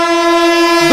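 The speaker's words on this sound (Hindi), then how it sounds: "12281 भुवनेश्वर नई दिल्ली दुरंतो एक्सप्रेस फ्लैट 130 पे आती हुई।" The 12281 Bhubaneswar–New Delhi Duronto Express, running at about 130 km/h, sounds a loud, sustained horn blast, one steady tone held close and clear for the full second.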